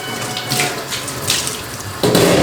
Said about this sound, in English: I rinse one more time with hot water.